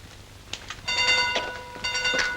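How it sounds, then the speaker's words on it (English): A steam-era train runs into a railway station, rumbling and clattering with a bright ringing, whistle-like tone rising over it. The sound comes in short bursts and grows louder toward the end. "There's our train."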